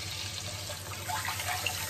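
Water poured into a cooking pot for rice mixed with soy sauce, a steady splashing flow held at an even, close level throughout.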